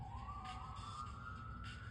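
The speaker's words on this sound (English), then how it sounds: "we have the sirens in the background there" A siren wails in the distance, one long rising tone held over a low rumble of traffic. Nobody speaks.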